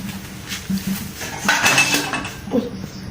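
A plate set down in a home kitchen while preparing aloo fuchka, giving a few short ceramic clinks and knocks at close range against low background noise.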